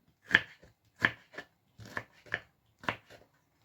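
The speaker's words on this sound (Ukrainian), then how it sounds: "отак буду нарізати солонкою" Zucchini is sliced on a handheld kitchen slicer, producing five or six crisp, rasping strokes in an uneven rhythm, close and clear with no talk.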